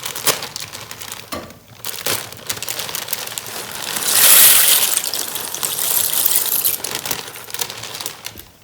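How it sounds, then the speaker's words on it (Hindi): Dry pasta, about one and a half pav, poured into a pot of water with oil and salt, giving a steady crackling, rustling patter that swells midway and then settles into a continuous shuffle. "अभी मैं इसमें डालूँगी पास्ता।"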